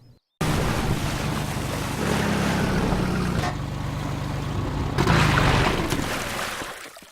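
Airboat from Half-Life 2 racing through canals, a loud continuous engine roar mixed with rushing water and wind, surging louder midway and again near the end before cutting off.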